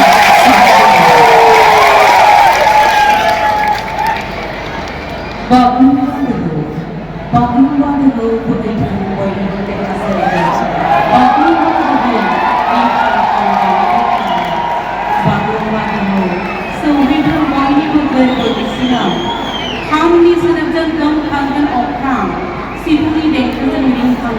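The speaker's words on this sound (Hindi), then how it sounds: "आइए तालियों के साथ इस भव्य प्रस्तुति का स्वागत करें" A large crowd cheers, whoops and shouts at a mass Bagurumba dance performance staged as a world record event in Guwahati, Bodoland, with loud sustained noise and swelling bursts of excitement throughout.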